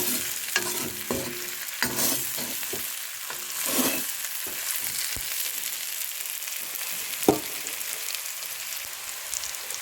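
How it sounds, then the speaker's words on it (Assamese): Spices fry with jackfruit curry in a pan, crackling in a close, steady sizzle broken by irregular spoon scrapes and clinks against the pan. "এতিয়া মছলাখিনি ধুনীয়াকৈ মিলিবৰ কাৰণে ভাজি দিম আৰু মছলাটো ভাজি লাগিবৰ কাৰণে"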